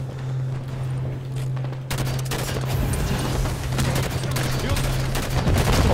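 Rapid automatic gunfire from the video game Halo 5 rattles in sustained bursts over a steady low hum, growing denser and louder after the first couple of seconds.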